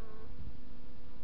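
Bees buzzing around an open beehive during a honey harvest, a continuous droning hum heard close for a brief moment with no talk.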